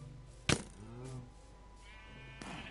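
A sheep in Minecraft gives a short bleat, soft and close, in a quiet game scene with a sharp click just before it and another brief bleat near the end.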